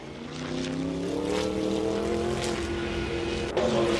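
A Dodge race car in a Trans Am video game race at Grindelwald, its engine a loud, steady, close drone with rising harmonic whine and a sharp gear change near the end.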